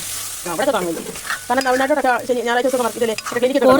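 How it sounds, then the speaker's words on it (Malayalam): Botti curry, made with tripe and masala, is stirred in a frying pan, giving a steady sizzle with scraping strokes under a prominent tonal, voice-like layer. "നമ്മൾ ഇതുപോലെ അങ്ങോട്ട് ഇളക്കി കൊടുക്കുക"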